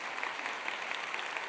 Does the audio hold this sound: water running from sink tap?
no